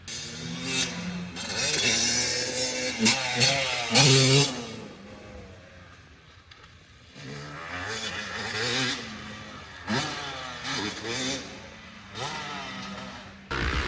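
A Yamaha YZ250 two-stroke dirt bike laps a motocross track, its engine repeatedly revving up and dropping off as it passes near and far, loud and raspy with no talk.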